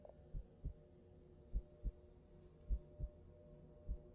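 Heartbeat in the Mimic Search horror video game: repeated paired low thumps in an irregular rhythm over a steady low hum, fairly close and prominent with no talk.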